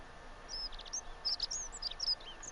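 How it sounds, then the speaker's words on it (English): Small birds chirp in short, high, bright bursts inside a cave city in The Forgotten City game, faint and scattered over a quiet ambient background. "Beautiful sounds of the birds."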